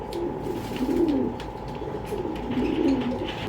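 Pigeons, including black checker birds for sale, coo in repeated low throaty phrases, two rolling bursts close by over a faint background with no talk.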